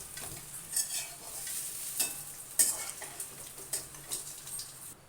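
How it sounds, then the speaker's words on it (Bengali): Four potatoes frying in hot oil and being stirred, a soft continuous sizzle with a string of light spatula clinks and scrapes on the pan, close but fairly quiet, no talking. "আলুটা ভাজা হয়ে গেছে, এবার তুলে নেব"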